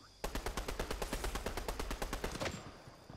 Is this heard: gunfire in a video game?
yes